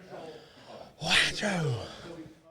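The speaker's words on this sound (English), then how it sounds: "Let me sneeze" A single close sneeze from a person at a Shatterpoint tabletop game tournament: a sharp broadband burst followed by a short voiced trailing exhale, loud against quiet room background.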